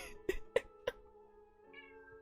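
A cat that is suffering in the heat gives a few short, faint meows indoors, three quick calls close together followed by quieter background sound.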